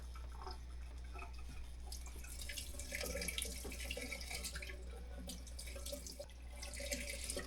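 Hot water runs steadily from an RV faucet into a sink, a continuous broadband rush with faint drips, close and fairly quiet, no talking.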